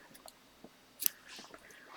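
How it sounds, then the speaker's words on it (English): Scissors snip through white yarn with two or three quick, soft clicks close by, the sharpest cut landing at the very end amid faint handling rustle. "I'm going to cut this off."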